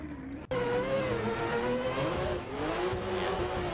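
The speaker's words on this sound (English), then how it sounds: "just foot to the floor out front in that 890 Supra" Toyota Supra 890 drift car held at full throttle during a drift competition, its engine screaming at high revs in a sustained, loud wail with slight pitch wavering after a sudden onset.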